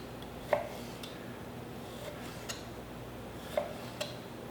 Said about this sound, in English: We're just going to start making nice thin slices